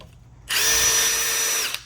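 A power drill fitted with a wire brush spins up and whines steadily for about a second, close and loud, scouring rust and paint off metal before stopping abruptly.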